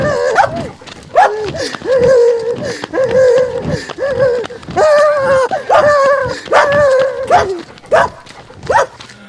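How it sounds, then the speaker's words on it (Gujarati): A dog gives a series of repeated, close, loud yelping barks and whining cries in uneven bursts, with short pauses between them. "સાહેબ ઉભા રહ્યો, મેં વાયરસ વાળું કૂતરું જોયું છે"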